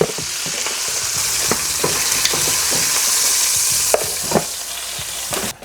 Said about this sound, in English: I'm gonna go ahead and pull this out of here, and we're gonna get the onions and stuff in.